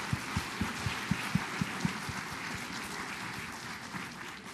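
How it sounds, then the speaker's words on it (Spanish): A short burst of clapping from a crowd, a few sharp claps standing out at first before it settles into a softer, even patter that fades. "Un fuerte aplauso para ellas."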